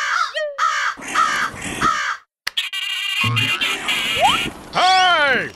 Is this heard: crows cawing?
yes